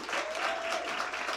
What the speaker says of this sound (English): Let's do another round of applause for all of our contestants.